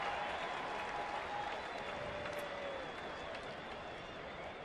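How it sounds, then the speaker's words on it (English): Baseball crowd at a stadium applauding and cheering as a steady, distant wash of noise, faint and even throughout with no distinct individual claps. "Fans trying to get vocal in this ball game."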